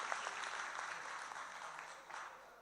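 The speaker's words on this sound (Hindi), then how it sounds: "ज़मीर भाई और उनकी पूरी टीम के लिए एक बार पुरजोर तालियां बजा दीजिए आप" Audience at a mushaira poetry gathering in Warud applauding the organizing team, a sustained wash of many hands clapping that gradually fades, slightly distant.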